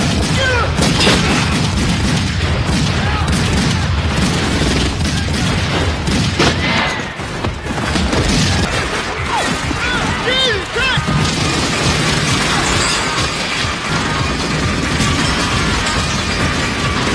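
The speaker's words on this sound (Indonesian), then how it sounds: "dari situ pun terjadi tembak-tembakan di mana Erik berhasil membunuh mereka semua," A loud gunfire shootout in a crime film, with dense bursts of shots, booms and crashes mixed with music and voices throughout.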